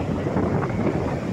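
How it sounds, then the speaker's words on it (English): Strong monsoon wind at Juhu Beach at high tide buffets the microphone in a continuous low roar, gusting unevenly, with no voices. "very windy it is."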